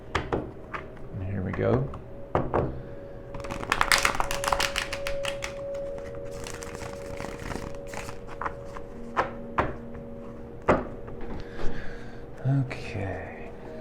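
Tarot cards are shuffled by hand, giving a dense patter of crisp taps and flutters that peaks in one quick burst, with scattered card snaps and a person speaking briefly.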